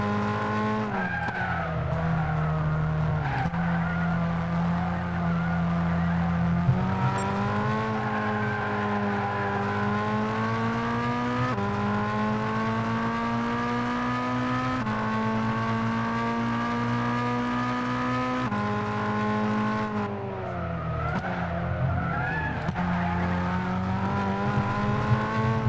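A race car in a racing video game holds a continuous high engine drone, its pitch climbing and dropping with gear changes and tire squeal, running loud and unbroken throughout.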